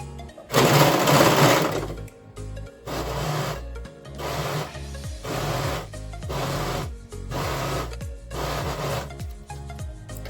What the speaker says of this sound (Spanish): que es este tipo de máquina que hace una cadeneta, levantamos el prensatelas, insertamos la tira, comenzamos a coser estirando un poco